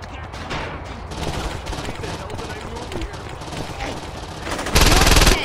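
Dense, sustained automatic gunfire in the Saints Row 2 siege mission, a continuous rattling barrage that swells louder near the end, with voices shouting over it.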